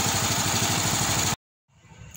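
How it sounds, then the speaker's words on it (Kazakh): A small motor on a multi-purpose farm machine for planting trees and seeds runs at a rapid, even putter close by, then cuts off abruptly, leaving quiet with faint low noise. "Бірнеше қызмет атқаратын осындай машина алыпты, кішкене мотор."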